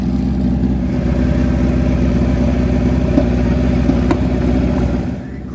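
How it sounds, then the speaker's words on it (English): A loud turbo drag racing motorcycle engine roars steadily at high revs with a dense rattling drone at Gainesville Raceway, then drops off abruptly near the end. "It is Avatar alongside the first 5-second no wheelie bar motorcycle of Chris Moore."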